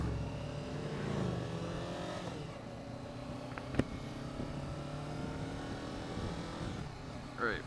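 A Honda CBR 500R motorcycle engine pulls steadily through its gears, a continuous nearby drone rising in pitch with each gear, with a brief sharp click partway through and wind noise throughout.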